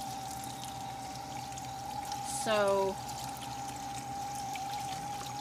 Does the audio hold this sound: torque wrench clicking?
no